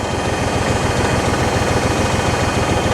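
Porsche tractor engine chugging steadily as it rolls downhill on a straight, a loud, close, rhythmic low thrum with constant vibration and no pauses.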